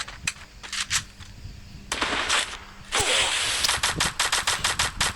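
Gunfire in the video game Free Fire rattles in quick bursts of sharp shots, some single cracks and some rapid runs, loud and close with short gaps between volleys.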